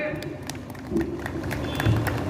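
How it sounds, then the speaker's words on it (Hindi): An audience claps at a Hindi poetry gathering held during a farmers' festival in Sitapur. A steady spatter of crowd applause runs underneath someone speaking. "एक बार तालियां बजाइए।"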